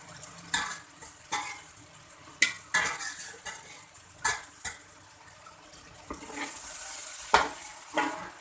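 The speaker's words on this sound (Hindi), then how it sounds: "अब उसमें से चिकन निकाल के मैं मसाले में ऐड कर दूंगी और 2 मिनट के लिए इस चिकन को मैं भून लूँगी" Chicken is fried in spice masala in a pot for chicken yakhni pulao, with a soft sizzle beneath repeated scraping and clinking stirs of a metal spoon against the pot, heard close without talk.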